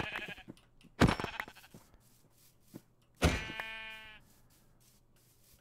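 Sheep in the video game Minecraft bleat twice, each a loud, wavering baa separated by quiet gaps, with faint game ambience between them.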